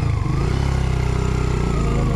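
Motorcycle engine labouring with a steady, throbbing low rumble as it climbs a rough, broken road between Lamjung and Kaski districts on the way to Pokhara, loud and close throughout with no talk.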